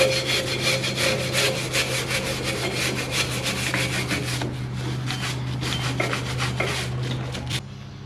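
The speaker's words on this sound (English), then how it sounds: "the reason I'm trying to be so meticulous cleaning this backing plate is that I want to get all the oil and grease off of it" A plastic brush scrubs the oily, greasy drum brake backing plate of an '86 Ford diesel Ranger 4x4 in fast, steady back-and-forth strokes, a loud, close, continuous rasping that eases slightly near the end, with no talking.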